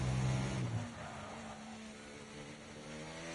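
A McLaren race car in a racing video game set at Abu Dhabi, its engine whining loudly at first, then easing to a steady, quieter drone with a thin high tone running throughout.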